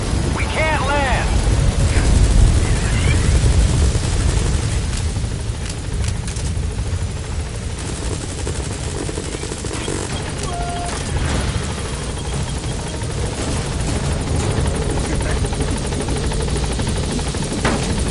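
The Pequod helicopter from the video game Metal Gear Solid V arriving, a loud, continuous rotor and engine roar with deep low rumble, briefly overlaid by radio-style voice at the start.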